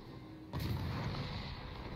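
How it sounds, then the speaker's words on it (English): Destroyer guns fire in a naval warfare video game: one loud boom lands about half a second in, followed by a heavy, sustained rumble that fills the rest of the moment. "Why is this destroyer shooting at me?"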